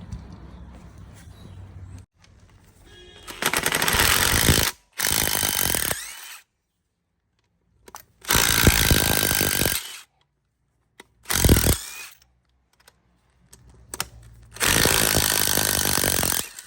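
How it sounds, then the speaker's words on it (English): Bolts come out of a Toyota Yaris clutch cylinder during a clutch change, heard as several loud, sharp bursts of a power tool separated by silent gaps. "we need to remove these 3 bolt and"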